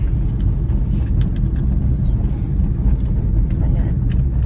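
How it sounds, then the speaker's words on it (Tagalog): Dense, heavy city traffic in Udupi, India forms a constant close engine roar and hiss, with a short horn toot and a voice talking over it. "Sobrang traffic."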